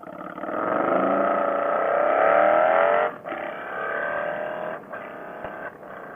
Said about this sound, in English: I can hear my exhaust echoing off of it.